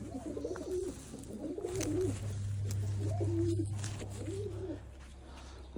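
Newly arrived pigeons cooing close by in soft, repeated low coos, with a faint steady hum underneath.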